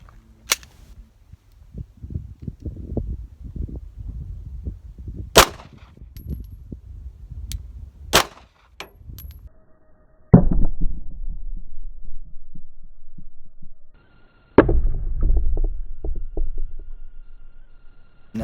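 A Glock 19 fires 9mm ball ammunition at body armor. About six sharp, loud reports come separately at uneven intervals, each followed by a brief ringing tail in an otherwise quiet outdoor setting.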